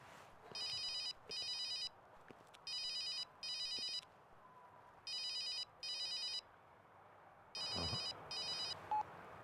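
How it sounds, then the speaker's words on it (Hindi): A telephone rings in repeated double bursts, four cycles of paired trills, moderately loud against a quiet room, with no one picking up. "कोई फोन ही नहीं उठा रहा है।"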